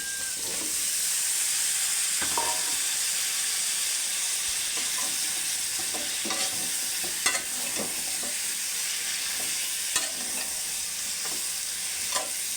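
Potatoes, turnips and green tomatoes sizzle steadily in a pan of hot oil, with a loud continuous hiss and occasional scrapes of a spoon stirring them.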